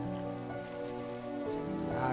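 Steady heavy rain patters down continuously beneath a sustained tonal hum, dense and even throughout, in a film scene.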